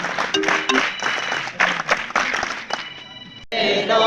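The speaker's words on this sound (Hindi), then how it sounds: "एक साथ ताली बजा।" A group claps together at an outdoor forest and environmental conservation awareness programme in Shitalakhet, with bursts of fairly loud, uneven applause over about four seconds and some voices and tonal sounds mixed in.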